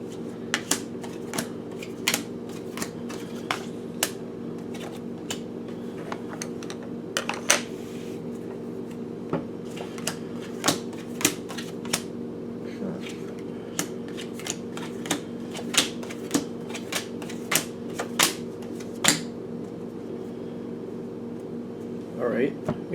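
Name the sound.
shuffling Spirit Animal Oracle cards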